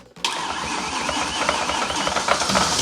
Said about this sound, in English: starter solenoid and see if we can turn this engine over, get it to fire